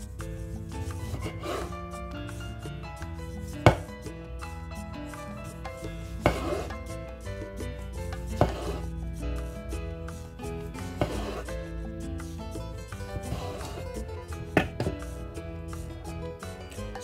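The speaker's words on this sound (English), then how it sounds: "So next I'm going to cut my tomatoes. Still into thin slices" A knife cuts tomatoes into thin round slices for a Kenyan kachumbari salad. Sharp taps on a board land at irregular intervals over a steady background of music.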